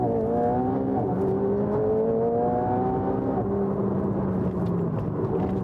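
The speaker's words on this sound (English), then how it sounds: "Somehow they managed to get 710 horsepower out of a 4-liter V8." McLaren sports car with a 710 hp 4-liter twin-turbo V8 accelerating hard across a vast parking lot, its engine note climbing steadily through the gears with a loud, continuous roar and a brief shift near the middle, no talking.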